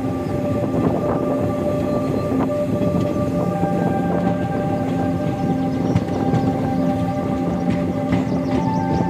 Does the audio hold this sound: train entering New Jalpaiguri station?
yes